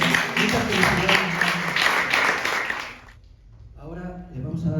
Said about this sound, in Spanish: Yo pido un fuerte y merecido aplauso para él.